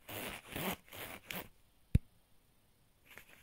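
Zipper on a pair of tactical jeans being pulled in several quick, raspy strokes up close, followed by a single sharp click and then near silence with faint rustling at the end.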